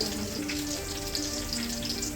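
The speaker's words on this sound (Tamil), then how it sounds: "ரீஃபைன் ஆயில் வச்சு சூடு பண்ணுங்கள் நல்லா சூடான அப்புறம் பிரிஞ்சி இலை பட்டை ஏலக்காய் கிராம்பு" Bay leaf, cinnamon, cardamom and cloves fry in hot refined oil as a tempering for turkey biryani, giving a soft, steady sizzle with fine crackles throughout and no voices.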